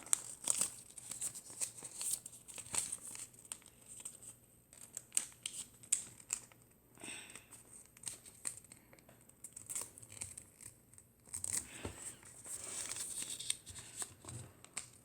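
Paper being creased and folded into an origami butterfly, close-up soft crinkles, rustles and sharp crisp presses in irregular bursts against a quiet background.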